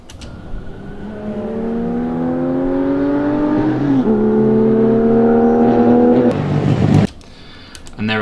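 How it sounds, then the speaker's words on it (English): Engines whine and rise in pitch, revving steadily louder as vehicles approach, then cut off abruptly before a brief burst of noise returns. "And there are the cars. You can already hear them coming"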